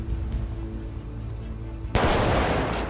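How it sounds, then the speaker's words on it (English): A sniper rifle shot in GTA 5 roleplay: a quiet hum gives way to one sudden loud crack that drops into a sustained rough noisy tail. "Jimmy dies by a sniper round"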